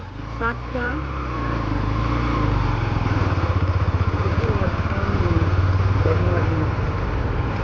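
A 125cc motorcycle with a burnt, worn clutch plate that leaves it short of pulling power rides along at a steady pace, its engine droning evenly and close by.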